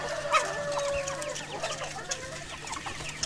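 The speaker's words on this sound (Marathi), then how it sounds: "आणि व्यवस्थित खातात कोंबडी आवडीने." Village hens cluck close by as they peck at tender cowpea and banana leaves, giving short irregular calls over a low farmyard background.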